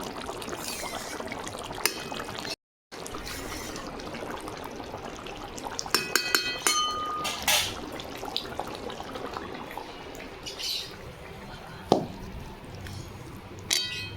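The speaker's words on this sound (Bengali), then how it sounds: "এবার ঝোলটা একটা জায়গায় ঢেলে দেব" Red Bengali fish curry is poured out of a wok in a home kitchen, a quiet liquid pour with scattered metallic clangs and scrapes of the pan.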